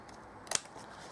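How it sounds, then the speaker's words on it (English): A single short, crisp snip of scissors cutting, quick and close, against a quiet room background. "just use your scissors to trim it off"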